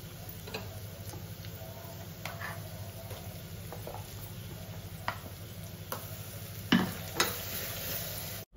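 Ginger garlic paste and ground curry paste frying in hot oil, a steady low sizzle throughout with occasional stirring clinks and scrapes, louder bursts near the end before it cuts off.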